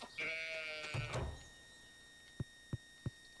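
A goat in the Stardew Valley farming game gives a short, nasal bleat, followed by a few quiet, evenly spaced soft thumps.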